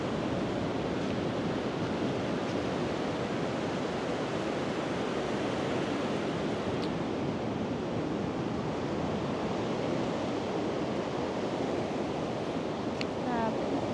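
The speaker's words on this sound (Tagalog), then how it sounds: "So guys, ayan, ang dagat." Sea waves at Lamane Beach, a fine-sand shore, roll in as a steady, broad wash of surf that fills the whole stretch with continuous rushing noise, with some wind buffeting the microphone.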